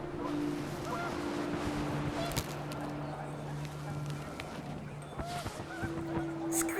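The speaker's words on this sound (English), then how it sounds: "The wind picked up, and panicked geese appeared and quickly went." Panicked geese honk in What Remains of Edith Finch as wind picks up, with repeated nasal calls rising over a windy backdrop and steady low tones from the game's soundtrack.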